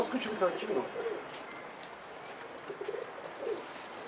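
Pigeons coo softly in a few low, throaty bursts near the start and again toward the end, set against a faint, airy outdoor background with a person speaking nearby.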